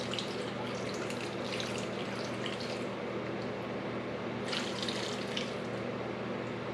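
Water pours steadily from a tap into a big pot for turkey bone broth, a continuous close splashing rush that swells a little near the end.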